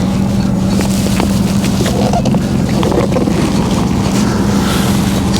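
A boat motor drones steadily over splashing water and heavy wind buffeting, continuous and close throughout.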